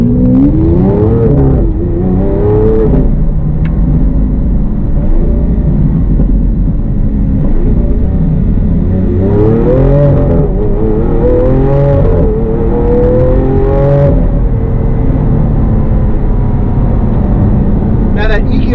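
A Lamborghini Aventador engine rumbles and rises in pitch several times as the car makes a tight U-turn, loud and close. Someone talks over it.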